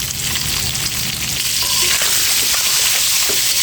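Eggs seasoned with turmeric and salt fry in a pan, a loud continuous sizzle with scraping stirs and small clinks of the spatula, no voices.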